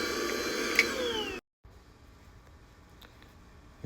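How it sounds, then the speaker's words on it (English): Shop vacuum cleaner running loudly to clear scraped gasket residue off a small 3.3 hp Mercury two-stroke outboard motor, a steady whine that cuts off abruptly partway, leaving quiet room noise. "now I'm gonna hit it with the vacuum to get"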